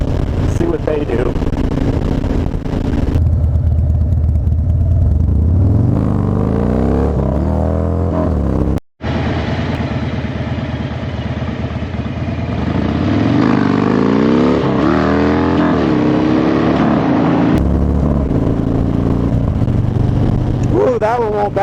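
A motorcycle engine revs hard during a wheelie in rising, wavering pulls, cutting out briefly midway before climbing again, loud and close with wind noise.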